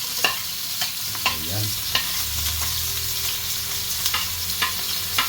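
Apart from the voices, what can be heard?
garlic, ginger and onion sautéing and stirred in pan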